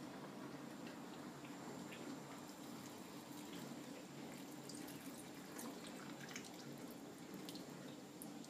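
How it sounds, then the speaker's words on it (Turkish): Water pours steadily into a jar of cracked green olives topped with lemon, a soft continuous trickle and splash in a home kitchen, with no talking. "Kenarından su ekleyeceğim."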